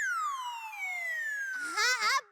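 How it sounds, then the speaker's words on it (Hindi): An ambulance siren sweeps downward in a long wail, then breaks into a rapid warbling yelp as it passes close by, loud and alone with no talk. "लेकिन पहले आप ये एम्बुलेंस को जरा जाने देंगे।"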